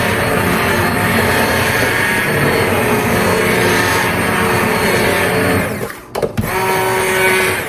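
Immersion blender pureeing a hot cranberry apple mixture for crockpot cranberry apple butter, a loud steady motor whir that runs alone, briefly cuts out as the blender is lifted, then starts up again.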